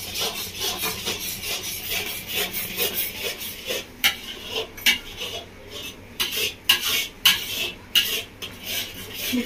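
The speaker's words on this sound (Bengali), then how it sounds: "কাজু বাদাম পেস্টটাকে ভালো করে নাড়তে থাকবো" A spoon scrapes and stirs in a pan as cashew paste is mixed into boiling milk, uneven rhythmic rasping strokes growing louder and more frequent toward the end, close by.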